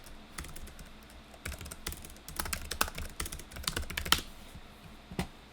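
Fast typing on a Microsoft Surface keyboard during a speed test, with close, crisp key clicks coming in uneven bursts and brief pauses, no voices.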